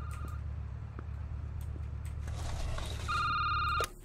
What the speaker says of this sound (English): Phone's ringing too.